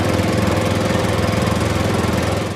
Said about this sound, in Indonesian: Yang pertama, kita punya truk pertanian atau traktor.